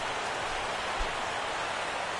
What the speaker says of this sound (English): No roof despite the light rain.